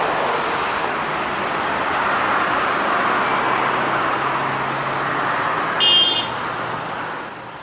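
Road traffic of people leaving Tehran, a dense steady roar of congested vehicles with a brief horn or buzz near the end, no talk.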